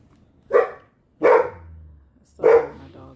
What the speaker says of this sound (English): So my dog is barking.